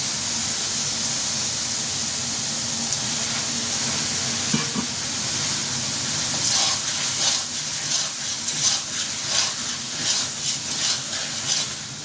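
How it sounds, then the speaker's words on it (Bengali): Tomatoes go into a pan of sizzling spice masala for a Bengali rui fish curry, giving a loud, close, continuous frying hiss that turns into rhythmic stirring and scraping toward the end. "এখন দিয়ে দেবো টমেটোগুলো"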